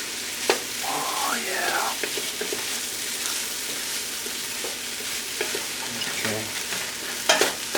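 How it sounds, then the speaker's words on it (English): Ground whole spices with turmeric and ginger stirred and frying in a pan for vegan malai kofta, a steady sizzle with scraping stir strokes throughout, while people briefly talk and react nearby. "A little hard to stir with just your left hand."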